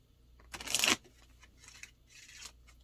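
A deck of knowledge cards is shuffled up close, a quick riffling burst followed by two softer flutters, with no talking.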